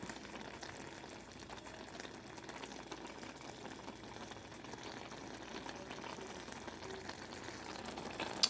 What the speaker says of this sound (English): you see they're steaming, simmering, they're almost ready